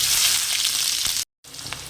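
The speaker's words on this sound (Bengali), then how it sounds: "ওর মধ্যে দিয়ে দেব কুচিয়ে রাখা পেঁয়াজ।" Chopped onion hits a hot cumin tempering for a Bengali saur chingri prawn curry. It gives a loud, steady close-up sizzle that cuts out briefly and then resumes. No one speaks.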